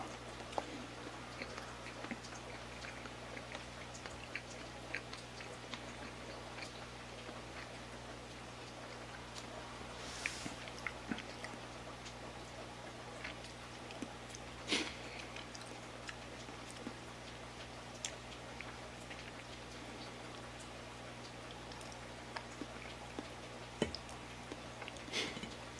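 Steady rain falling outdoors, a continuous soft hiss dotted with irregular drip ticks, faint and even throughout, with a low steady hum underneath.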